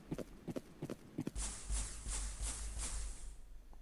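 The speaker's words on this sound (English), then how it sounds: "I imported these footstep sounds for grass and stone" Footstep sound effects for grass and stone: a few soft separate steps, then a run of louder, steady crunching steps that carry on to the end, close and alone.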